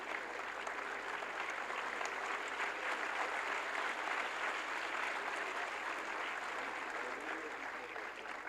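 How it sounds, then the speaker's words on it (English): Steady, moderately distant applause from an audience at a food processing startup event, honoring a young food technologist, with continuous dense clapping and faint voices beneath. "Can we have a big round of applause for Sarthak for his hard work?"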